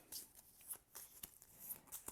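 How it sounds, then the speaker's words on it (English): A deck of playing cards for a tabletop board game is shuffled up close, soft riffling and flicking bursts repeating quickly at low volume. "I shuffle these up, and I draw again"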